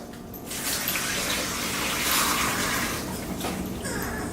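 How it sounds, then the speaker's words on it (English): Water from a pot of boiled meat, cooked to feed puppies, pours out in a steady, close gushing stream that runs for several seconds before tapering slightly near the end. "I'm going to pour some of the water out"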